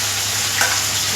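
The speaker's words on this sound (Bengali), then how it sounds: "দেখো পনিরগুলো একদম হালকা করে ভাজলাম" Pieces of paneer fry lightly in oil in a pan, giving a close, steady sizzle with faint crackles throughout and no voices.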